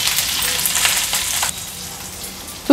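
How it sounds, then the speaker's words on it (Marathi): Ginger, garlic and green chillies sauté in hot oil with a loud, crackling sizzle that eases partway through, followed by a sharp clink at the very end. "आता तेलावर आलं, लसूण आणि मिरची छान आपल्याला परतून घ्यायची आहे"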